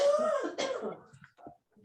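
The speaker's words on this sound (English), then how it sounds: "I'm coughing because I just did a pistachio." A single close cough, rough and throaty, trailing off into a few quieter throat-clearing sounds.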